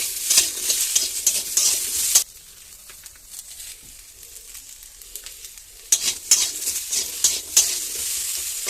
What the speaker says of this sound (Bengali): তেলটা ভালো করে গরম হয়ে গেছে এবার দিয়ে দেবো আলু